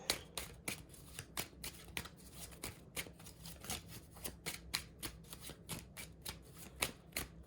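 A tarot deck being shuffled by hand, with a steady run of crisp card riffles and flicks that repeat all the way through at a close, moderate level, and no voice.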